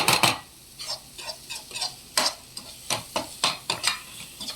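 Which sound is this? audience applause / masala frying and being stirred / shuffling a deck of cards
masala frying and being stirred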